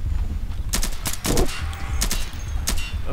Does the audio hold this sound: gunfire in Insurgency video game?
yes